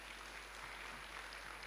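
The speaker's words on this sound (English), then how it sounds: "A big round of applause for Mr. Mabusela." Audience applause at a WorldSkills South Africa event, a steady, dense clatter of many hands clapping continuously, fairly distant and even in level, with no voices over it.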